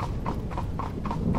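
Horses hauling a carriage, hooves clip-clopping in a steady, close, loud rhythm over a continuous low rumble of wheels, with no voices.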